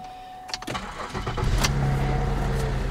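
A project car with a light knock at first start cranks over with a few sharp clicks and turns, then catches and settles into a loud, steady, close-up idle rumble.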